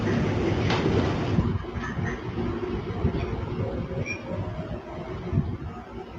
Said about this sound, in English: The train starts moving again.